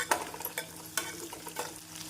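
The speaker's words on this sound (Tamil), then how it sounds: "இந்த அளவு வெங்காயம் பூண்டு வதங்கி வருவோம்" Onions, garlic and green chillies sautéing: stirring and light sizzling in a pan, with a few sharp scraping strokes at a steady pace; no talking.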